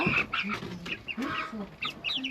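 Chickens clucking close by, several overlapping short calls in an irregular rhythm with steady farmyard background.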